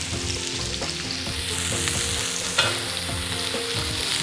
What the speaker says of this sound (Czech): Do té zredukované omáčky vmícháme máslo.